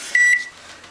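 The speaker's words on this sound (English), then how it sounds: "So I'm now going to set my microwave" A microwave oven gives a single sharp, close electronic beep as it is set, followed by a faint low hum.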